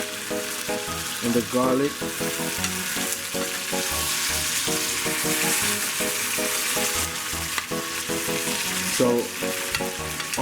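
Bone-in prime rib sears in a pan of butter and olive oil with cracked pepper and garlic, giving a loud, steady broadband sizzle and crackle throughout. A voice speaks briefly over it.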